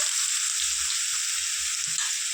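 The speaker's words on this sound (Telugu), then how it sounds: "ఇప్పుడు ఈ ఆయిల్లో నుంచి అదే ఆయిల్లో మనం సొరకాయ ముక్కలు వేసేసుకున్నాము" Bottle gourd pieces sizzle steadily in hot oil in a pan, a dense, even frying hiss that stays close and constant throughout, with faint low knocks of stirring underneath and no voices.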